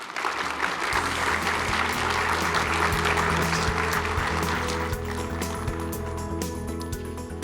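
Steady applause from a plenary session audience welcoming a speaker, dense and sustained throughout over a low background hum, tapering slightly toward the end.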